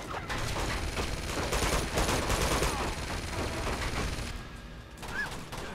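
Sustained gunfire in Uncharted 2, rapid automatic bursts and overlapping shots rattling loudly for several seconds before thinning out into scattered pops.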